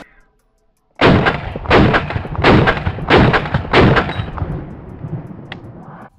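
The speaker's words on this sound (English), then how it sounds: "so I shoot a little bit more." Rifle shots at an outdoor shooting range, five sharp close reports in a steady rhythm about two-thirds of a second apart, each followed by a short echoing tail, then fading quiet.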